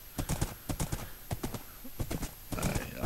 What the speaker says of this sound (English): And this isn't too bad of a horse.